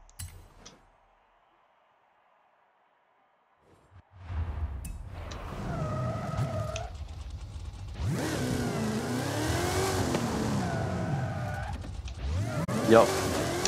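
The Hot Wheels Deora II in Forza Horizon 5 revs its engine after a brief silence, a sustained mid-pitched roar that rises and falls in pitch with rising whine, loud and continuous, with a person talking over it.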